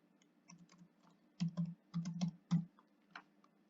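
Typing a name on a computer keyboard: a few scattered keystrokes, then a quick run of close, crisp clicks in small bursts, quiet and alone in a silent room.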